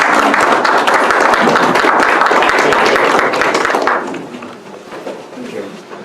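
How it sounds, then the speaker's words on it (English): Audience at a grassroots environmental festival giving a round of applause for a presenter, many hands clapping briskly and loudly for about four seconds before fading into scattered claps and murmuring voices. "let's give Jimmy another round of applause"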